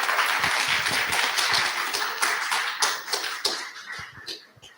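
A mid-sized audience claps for the speaker Cristian after a talk about the Atacameño Lickanantay people, loud and close applause that holds steady before tapering off toward the end.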